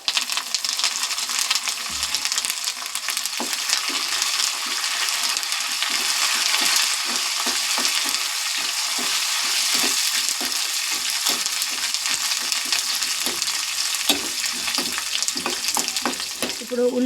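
Curry leaves sizzle and crackle in hot oil in a pan, a loud, steady frying hiss with sharp pops and occasional stirring clinks throughout.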